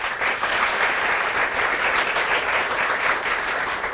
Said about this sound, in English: Please give yourself a nice round of applause.